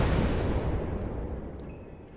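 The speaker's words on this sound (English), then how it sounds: "the only students that surpassed him were Bakugo propelling himself with explosion," Explosive blast used to launch Bakugo through the air, a dense roaring burst that starts loud and gradually fades over about two seconds, heard alone.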